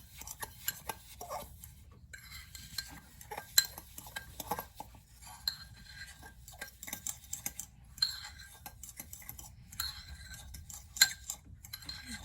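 A utensil is stirred through a mixture in a bowl, giving faint repeated ticks and clinks against the side in an irregular rhythm, soft and close in an otherwise quiet room.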